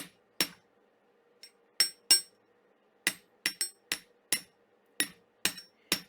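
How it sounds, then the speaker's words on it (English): A chasing hammer strikes 16 gauge metal wire in about a dozen sharp, ringing metallic taps, spaced irregularly with short gaps and a few quick doubles, close and clear with no talking. "I'm just going to hammer to flare out this curve here"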